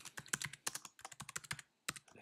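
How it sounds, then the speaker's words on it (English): Computer keyboard typing: a quick run of crisp, close key clicks in uneven bursts, a short pause, then a final firmer keystroke like the enter key, with no talking. "Clicking and typing into the box, I'll hit enter"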